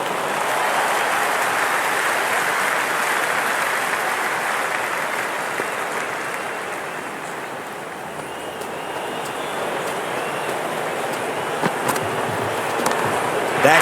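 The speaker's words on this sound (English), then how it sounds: "There's a buzz, a real buzz coming from the stands." Stadium crowd at the Indian Premier League final between Royal Challengers Bengaluru and Gujarat Titans at a cricket ground, a dense, steady roar of cheering and buzzing that swells slightly and dips midway, continuous throughout without talk.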